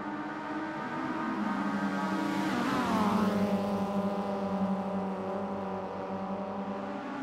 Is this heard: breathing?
no